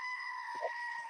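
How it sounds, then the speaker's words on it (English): A short goat scream, a single brief bleating cry heard faintly over a steady, high electronic tone that runs throughout. "We do not need the screaming goat, Dana."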